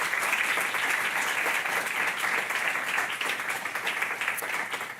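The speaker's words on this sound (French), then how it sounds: "vous pouvez les applaudir déjà pour les féliciter" Audience at a medical conference for doctors and physiotherapists applauding, loud dense steady clapping sustained throughout, tapering slightly at the end.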